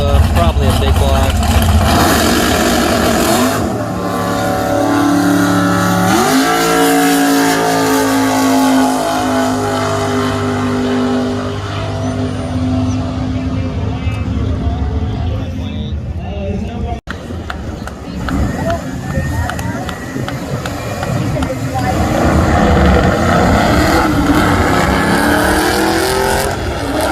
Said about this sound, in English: Big tire Nova, probably a big block.